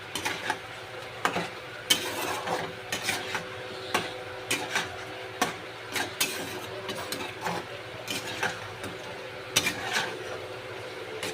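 Spices frying and being stirred in a pan for butter chicken: repeated scraping strokes of a utensil against the pan come in an uneven rhythm over a low, steady sizzle, with no talking.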